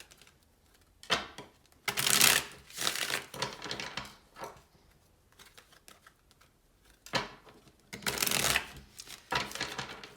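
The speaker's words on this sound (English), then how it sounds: "I'm just going to get all the cards out before I read." Tarot cards being shuffled, with bursts of riffling and crisp card flicks coming in uneven clusters between quiet pauses, close and fairly soft.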